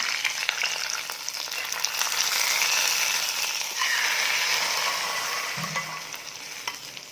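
Steady, bright sizzling of hot oil tempering poured into lentil curry, loud and close, with a brief low clunk near the end.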